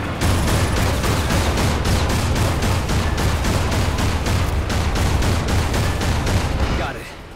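A main gun fires in the video game Prototype, a rapid sustained barrage of heavy booming shots in a steady rhythm for several seconds before cutting off and fading out.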